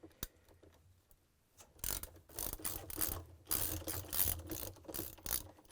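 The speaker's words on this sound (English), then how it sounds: "I'm using the socket wrench with 10mm head" A socket wrench with a 10mm head ratchets out bolts holding the balance weight on an LG/Kenmore washer. After a quiet start, rapid close clicking comes in bursts of pawl ticks.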